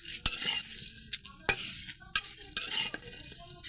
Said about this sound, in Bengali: আর সেমাইটা ভাজা করব আস্তে আস্তে, খুবই আস্তে আস্তে, আর যাতে ব্রাউন কালারটা হয়।